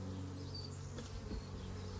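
A dense, unbroken drone of honey bees swarming close around comb frames lifted from the hive while supers are being added, with no voices.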